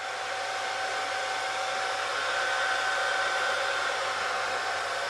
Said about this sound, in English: This machine is good for doing unleaded boards, primarily because of the upper airstream, hot airstream.